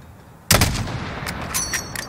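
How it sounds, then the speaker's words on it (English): A single sharp gunshot is fired in the video game Call of Duty: Modern Warfare (2019), with a loud sudden crack and a rolling tail, followed by a few fainter distant bangs. "Fire when you're ready."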